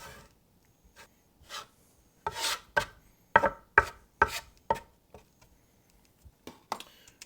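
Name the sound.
dough scraper gathering and pressing potato gnocchi dough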